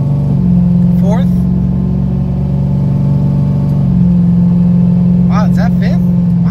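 An 800 hp Coyote-engined Mustang on cams pulls hard and shifts smoothly up through the gears, its loud, steady engine drone dipping briefly at each shift as a voice talks over it.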